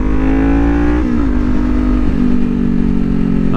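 A McLaren sports car accelerates hard right alongside, its loud, steady engine drone climbing in pitch with brief dips between gears, filling the scene without any talk.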